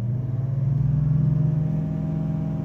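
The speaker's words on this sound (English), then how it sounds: "we're going to hold the revs up now." A Range Rover 4.4 diesel engine held at raised revs during a diesel particulate filter pressure sensor check, giving a steady, close, droning rumble with a slight pulsing, alone without talk.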